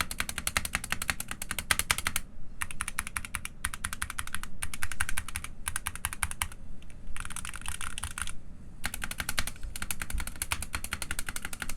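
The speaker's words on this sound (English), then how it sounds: "I'll do a quick sound test of this keyboard real quick" Rapid, crisp keystrokes clatter on a SteelSeries Apex Pro Mini keyboard close to the microphone, in steady bursts of fast typing broken by short pauses, with no voices.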